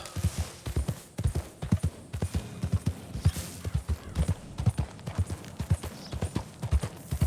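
Steady clip-clop of horse hooves in Red Dead Redemption 2, a quick even rhythm of loud, close thuds continuing throughout with a faint game-like background.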